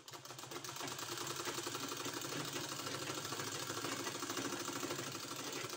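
A sewing machine stitches along both sides of a folded 2-inch fabric strip, running with a fast, even mechanical chatter that stays continuous and close.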